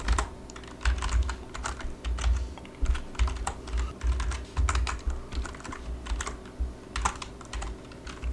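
Code is being typed on a computer keyboard in quick, irregular bursts of close, crisp key clicks with short pauses between runs.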